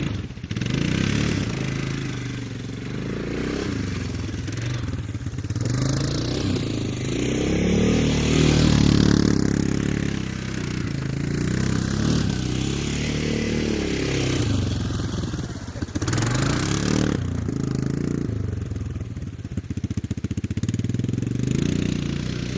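A four-wheeler ATV engine drones and rises and falls in pitch as it drives and shifts load, heard close and continuous with some clattering, with no talking over it.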